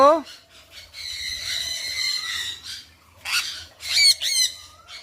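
Loud, shrill squawks from birds that have scattered from a dog burst out in short bunches, near and harsh, with quieter voices and rustling in the gaps.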